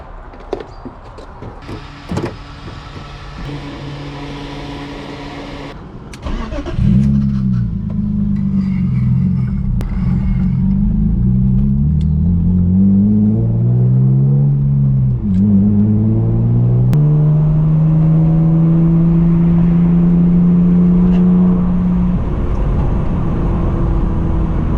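A BMW E36 engine pulls through the gears while driving, the pitch climbing in repeated rising sweeps with brief dips at each shift, then settling into a steady loud drone; clicks and cabin noises come before it.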